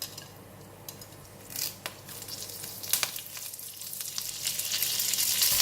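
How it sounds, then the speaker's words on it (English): Whole spices fry in hot oil left over from frying tofu for a curry, giving a close, steady sizzle punctuated by crackles and pops that grows louder toward the end, with no voices. "In the same oil, I'm putting all the spices."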